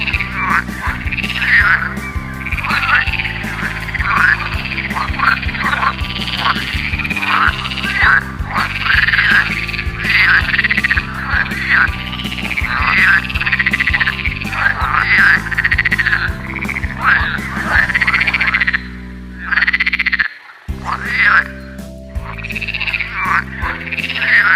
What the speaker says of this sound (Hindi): सुबह सुबह प्यारा सा मेंढक टर टर टर करता,